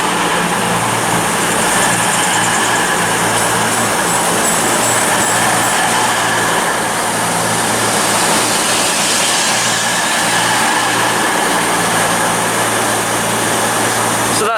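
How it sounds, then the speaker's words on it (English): A CrossCountry Voyager diesel train, unit 220010 bound for Newcastle, passes loud and close at Reading station with a constant roaring engine and rail rumble throughout, and no talk. "This will be a cross-country Voyager bound for Newcastle."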